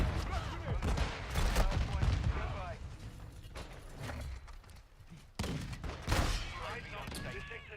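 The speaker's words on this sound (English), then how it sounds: "Everybody got shotguns in this game." Shotgun blasts and heavy gunfire ring out during a Call of Duty Modern Warfare 2 match, in dense overlapping bursts of booms and rattles. A player talks quietly underneath at times.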